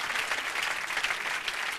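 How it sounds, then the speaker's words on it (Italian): A theatre audience at a cabaret comedy magic show in Milan claps steadily and densely for a young woman volunteer coming up on stage, the applause close and continuous throughout. "un applauso a questa signorina che arriva"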